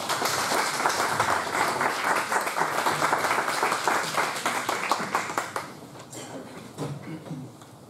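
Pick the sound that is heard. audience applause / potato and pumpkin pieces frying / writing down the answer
audience applause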